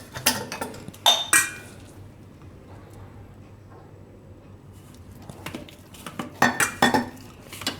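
A spoon clinks against a steel bowl while a spice masala mixture for stuffed brinjal fritters is stirred, in short clattering bursts at the start and end with a quiet gap between.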